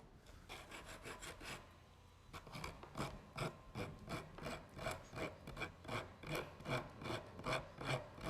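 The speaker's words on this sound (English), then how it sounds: "I'm going to use our flat rasp here to take this stuff off." A flat rasp files down fiberglass in a car audio build, with steady rhythmic scraping strokes at close range, faster at first and then slower and more even.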